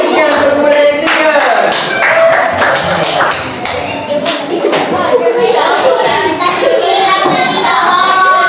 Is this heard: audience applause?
yes